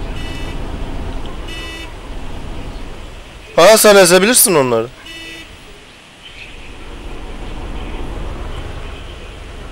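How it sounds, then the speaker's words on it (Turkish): Car horn in Arma 2 DayZ mod, a loud cluster of blaring honks about a second long, wavering in pitch, between stretches of engine rumble, with people talking before and after. "Kornaya bassana."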